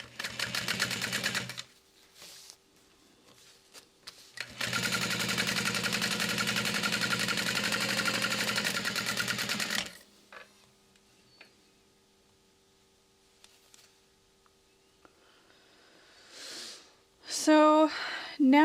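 Sewing machine base stitching a folded fabric tag-along handle at an eighth of an inch, running in two steady bursts of rapid needle chatter with a pause between them and brief handling noises afterward.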